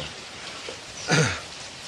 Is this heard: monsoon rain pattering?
yes